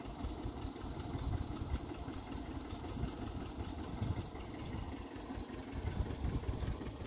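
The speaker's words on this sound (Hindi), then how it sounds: "बोर पर ट्रैक्टर लगा हुआ है।" A tractor engine drives a borewell pump on a farm field, giving a continuous low idling rumble with a faint knocking pulse. It stays steady and even throughout, with no voices.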